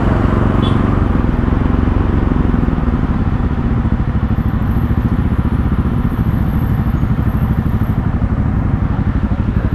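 Motorcycle engines drone loudly and continuously on a group ride through hot weather, with rumbling exhaust, wind rush and clattering buffeting close to the microphone for the whole stretch.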